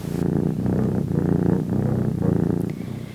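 A cat purrs steadily and close up as a bedtime-story sound effect, a low continuous rumbling in slow breathing pulses with no talk over it.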